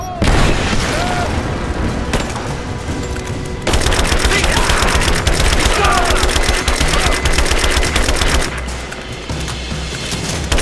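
Rapid automatic gunfire and booming explosions fill a firefight in the video game Rise of the Tomb Raider, loud and nearly continuous with dense machine-gun bursts, as characters shout over the battle.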